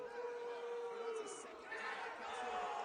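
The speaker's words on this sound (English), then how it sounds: "The partisan crowd not happy with that at all." A partisan basketball crowd murmurs and grumbles in displeasure after a foul call, a continuous restless chatter in the arena under a commentator's voice.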